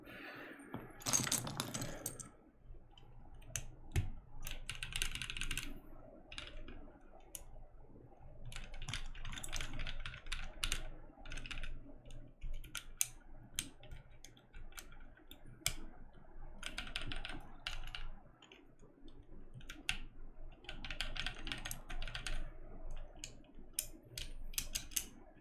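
Steady typing on a freshly built Gingham mechanical keyboard, with quick, irregular clusters of key clacks running continuously and close, and small pauses between bursts.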